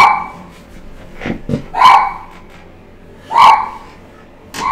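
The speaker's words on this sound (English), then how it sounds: "doing all that doggone barking" A dog barks four times at uneven intervals, loud and nearby, over a faint background hum.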